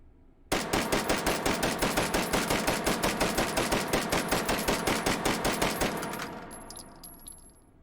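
Brügger & Thomet APC 9 carbine in 9mm firing in the H3VR virtual reality shooter, a long rapid string of about thirty sharp, evenly spaced close shots that stops abruptly and leaves a brief ringing tail.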